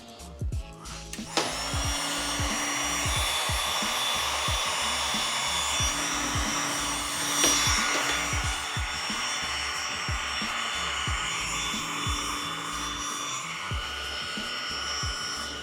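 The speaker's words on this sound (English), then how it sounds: "grab my heat gun here" A heat gun used to fit new grips on a 2016 Yamaha R1 motorcycle blows with a steady, close whirring hiss after it clicks on, running without a break under a faint rhythmic ticking.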